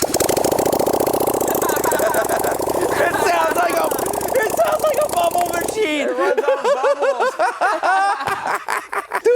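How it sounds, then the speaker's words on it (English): A V-twin cruiser motorcycle engine runs with no exhaust fitted, giving a loud, rough popping idle in the first part. It then gives way to people talking and laughing over a fainter engine. "it showed up with no exhaust on it. We fired it up, and you would have thought it was a cartoon bubble machine"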